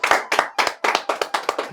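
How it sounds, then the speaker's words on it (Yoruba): Audience applause for a guest on a Yoruba-language game show, with about seven rhythmic bursts of hand clapping in a bright, close, steady pattern and no talking over it. "Ẹ pàtẹ́wọ́ fún Wàṣeré"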